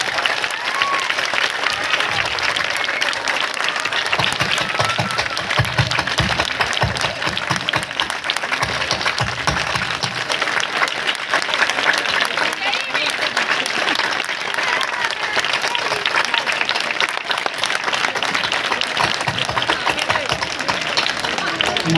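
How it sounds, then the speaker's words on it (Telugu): A large outdoor crowd at an Ambedkar Jayanti statue unveiling claps loudly and continuously, a thick, sustained roar of applause with some voices mixed in underneath. "గట్టిగా ఒకసారి చప్పట్లు కొట్టండి,"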